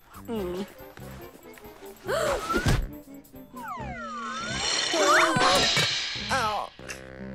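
A coffee set falls and smashes in a cartoon home scene, giving a sharp crash and clatter amid busy cartoon sound effects and speech.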